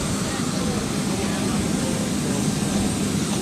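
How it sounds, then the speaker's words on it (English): An Embraer E195-E2 jet airliner engine gives a steady, broad roar that drones on without a break, loud and close, with no voices over it. "this is that beautiful engine which we hear"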